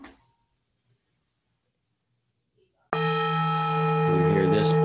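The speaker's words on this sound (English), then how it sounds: "You hear this bell." A meditation bell is struck once after a few seconds of near silence, then rings on loud and close with a bright, sustained shimmering tone that fills the rest of the moment.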